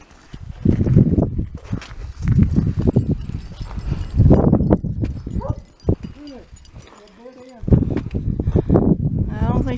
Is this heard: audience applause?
no